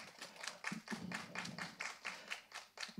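Audience at a movie teaser launch for Boogambam clapping in a steady run of hand claps, each one distinct and fairly close, with no voices.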